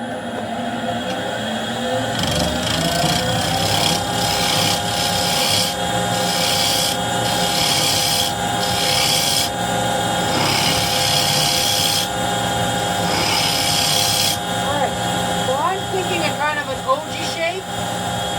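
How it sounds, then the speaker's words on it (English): A wood lathe spins a small cherry box while a spindle gouge cuts it, giving a steady loud motor whine with rising and falling scraping bursts as the tool shaves the wood, and no talking. "we're going to drop the skew and we're going to go with the spindle gouge, and that's pretty much what we're going to end the project with. So start that up."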